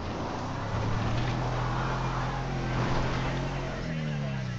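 A car speeding up in the video game GTA V: a steady low engine drone that climbs in pitch near the end, with continuous road and wind noise and a voice speaking over it.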